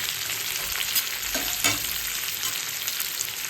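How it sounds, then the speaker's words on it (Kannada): Onions fry in a pan until soft, giving a steady, close hiss of sizzling oil with a few brief scraping stirs, no voices. "ಆನಿಯನ್ಸ್ ಜಸ್ಟ್ ಸಾಫ್ಟ್ ಆಗೋವರೆಗೂ ಫ್ರೈ ಮಾಡ್ಕೊಳ್ಳೋಣ ಸಾಕು."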